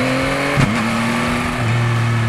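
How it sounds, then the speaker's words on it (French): A 2024 Yamaha MT-09 motorcycle engine revs loudly and close, with a quick gear shift and a sharp exhaust pop partway through before the tone steadies at a lower pitch. "Ah, le bruit du shifter, vraiment, des fois ça fait des petites flammes là"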